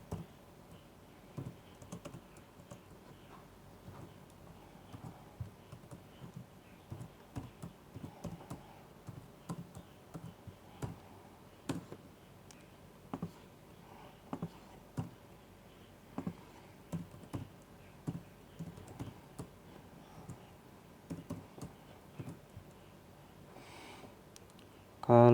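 Computer keyboard typing runs steadily throughout as quiet, irregular clicks and taps, fairly close and low in level, with no talking over it.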